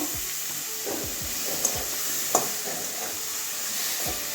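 Washed mushrooms go into hot oil with cooked-down spices for a cauliflower-potato mushroom curry, sizzling steadily with scattered stirring scrapes and a couple of sharp clinks, moderately loud and close.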